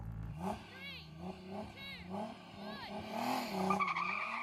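Race cars, a 3000 hp SUV against a Ferrari SF90, launch off the line with repeated squealing tire skids over rising engine roar, heard at moderate distance.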